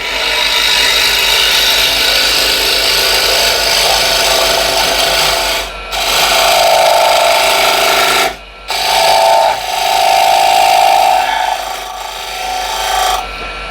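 A woodturning tool cuts into wood spinning on a lathe, giving a loud continuous rasping scrape in long passes broken by two brief pauses, with no talk.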